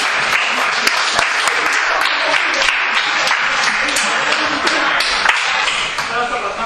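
Applause at a youth football trophy ceremony as a young player receives his award: steady crowd clapping with sharp individual claps standing out close by, tapering slightly at the end.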